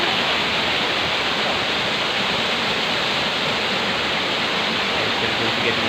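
Three-tier waterfall roaring nearby, a dense, continuous rushing wash of water with no break or variation across the whole span.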